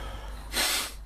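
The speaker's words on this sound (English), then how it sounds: "Oh, excuse me for sniffing." A person nearby gives one short, sharp sniff through the nose, heard alone over a quiet background hum in a workshop.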